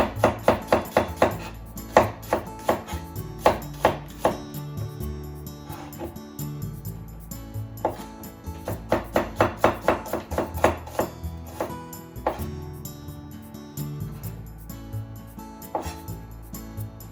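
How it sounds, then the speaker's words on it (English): Knife slicing a peeled onion thinly on a cutting board: rapid clusters of crisp, close taps in quick rhythmic runs separated by short pauses, with no talk. "Cut it into half and slice thinly."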